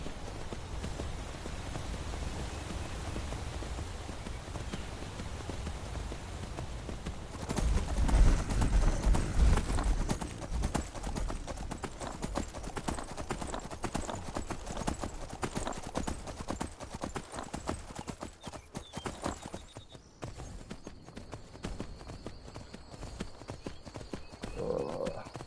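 Horse hooves clip-clop in the video game Skyrim, a steady rhythmic trot that continues across the whole stretch with faint background ambience and a brief louder patch partway through.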